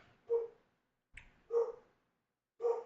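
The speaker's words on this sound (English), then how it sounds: "Now my dog's even wanting to bark." A dog barks indoors, three short muffled woofs spaced about a second apart with a faint yip between them, moderately close and with no talking.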